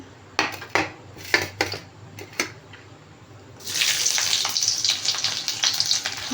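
Several sharp clanks of a utensil against a pan, then a sudden loud sizzle as chopped garlic and ginger hit hot oil and keep frying.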